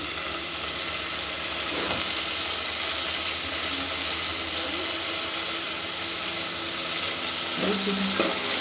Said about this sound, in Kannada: ಹುಳ್ಳಿಕಾಯಿ ಎಣ್ಣೆಲಿ ಫ್ರೈ ಆದಮೇಲೆ ಒಂದು 5 ನಿಮಿಷ ಫ್ರೈ ಆಗಲಿ ಎಣ್ಣೆಲಿ